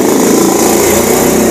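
A motorcycle engine revs loud and near, a steady buzzing drone that holds its pitch with no break for the whole moment, and nobody speaks over it.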